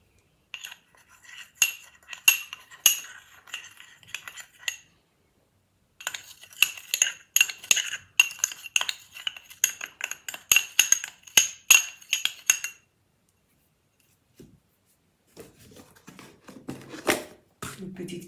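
A metal spoon mixing chebakia dough ingredients in a bowl, with bursts of bright rapid clinks against the bowl separated by quiet pauses, close and crisp, then softer scraping near the end.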